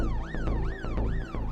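An ambulance siren wails in repeated rising and falling sweeps, three cycles in quick succession, loud and close over a low rumble of engine noise.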